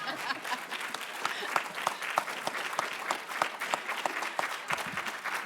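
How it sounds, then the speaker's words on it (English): A room of listeners at a book panel on Appalachia and Hillbilly Elegy gives a steady round of applause, dense crisp clapping with individual claps standing out, continuing evenly throughout. "Let's give them a round of applause,"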